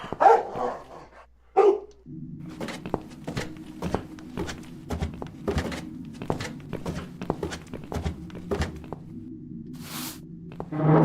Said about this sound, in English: This dog is making quite a racket